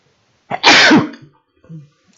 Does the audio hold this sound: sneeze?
yes